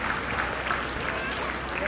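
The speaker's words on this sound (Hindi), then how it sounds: "मुख्य अतिथि महोदया का जोरदार तालियों से" A crowd of spectators claps continuously and fairly loudly to welcome the chief guest at a CRPF passing-out parade in Rajgir, with a dense steady roar of applause mixed with indistinct voices.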